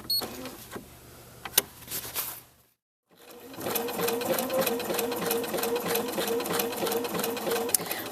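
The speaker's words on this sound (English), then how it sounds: "I'm just finishing up this top edge of the building applique. And as I get to the end, take my last zigzag stitches." A computerized sewing machine runs in a steady, fast, close whir while stitching a zigzag satin edge around a fabric building applique, starting after a brief pause that follows light handling sounds and a voice.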